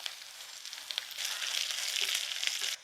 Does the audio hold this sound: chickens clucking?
no